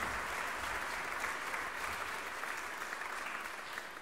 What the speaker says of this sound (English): Can I please request a round of applause?